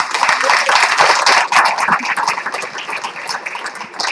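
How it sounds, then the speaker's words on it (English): A round of applause for honorees at an artist legacy awards ceremony, steady dense clapping from a sizable audience filling the whole stretch, loud and close, slightly thinning toward the end. "let's get another round of applause to all our honorees"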